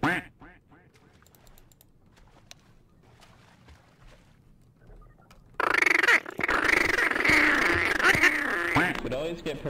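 Loud, continuous duck quacking in Garry's Mod on a WWII 1942 roleplay server, starting abruptly partway through after a quieter stretch with faint voices, then holding steady and harsh to the end.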